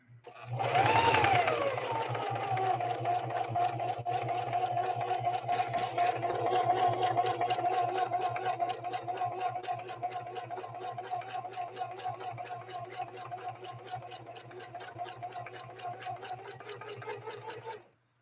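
A Singer 4411 heavy-duty sewing machine runs a 3-point zigzag stitch through four layers of fabric, a steady, close mechanical whir with fast rhythmic needle ticks that continues without a break for about eighteen seconds.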